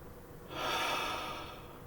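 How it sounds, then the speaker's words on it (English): One slow, deep breath drawn in through the nose, a soft airy rush that swells and then tapers away, close and quiet with no talking. "So breathing in through the nose,"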